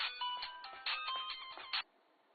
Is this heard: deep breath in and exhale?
no